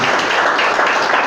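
A church congregation claps continuously during a service, a dense wash of applause at close range with no pauses.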